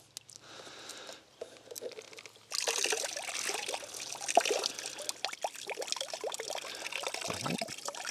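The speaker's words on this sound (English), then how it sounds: "now we're going to start pouring water down the pipe" Water is poured down a long PVC drive pipe, starting with a faint trickle and then becoming a louder, busy splashing flow with gurgles that continues to the end.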